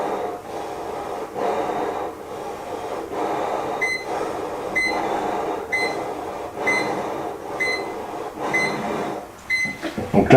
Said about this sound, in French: vous entendez une alarme qui se met en route